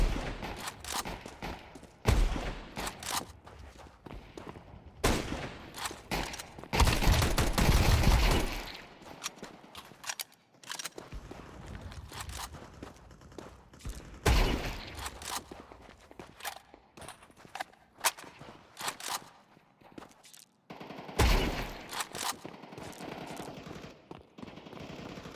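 Shooter video game combat played on PC: rapid bursts of gunfire and scattered single shots mixed with footsteps, fairly close, rising and falling in irregular clusters across the stretch.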